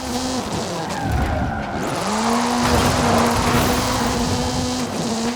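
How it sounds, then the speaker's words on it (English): A Ford Focus RS RX in Forza Horizon 5, Ken Block's Hooligan Gymkhana 10 car with a 2-litre turbocharged front-mounted engine and all-wheel drive, drones steadily at high revs while its tyres skid and squeal loudly and continuously. "This is Mr. Kenneth Block's Hooligan Gymkhana 10 Ford Focus RS RX."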